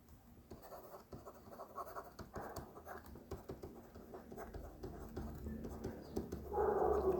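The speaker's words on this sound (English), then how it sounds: "Let's write it down." A pen writes figures onto paper during an accounting exam solution, with soft, irregular scratching strokes close by and faint at a low level, plus light background rustling.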